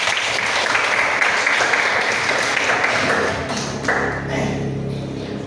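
A class of students applauds after a group physics presentation on gravity, dense steady clapping filling the room, loud and continuous, easing slightly near the end.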